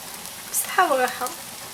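Spanish tortilla cooking in a pan gives a steady, soft sizzle throughout, with a brief voice-like tone rising over it partway through.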